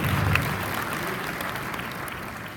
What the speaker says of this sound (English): Let us give both of our speakers a tremendous round of applause